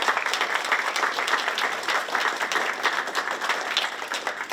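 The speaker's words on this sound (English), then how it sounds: "y'all give Glenn a great big round of applause" A crowd at a Roads to Prosperity town hall in Hurricane, West Virginia gives a warm round of applause for a guest. Many hands clap close and loud in a steady, busy patter with faint crowd murmur underneath and no clear speech.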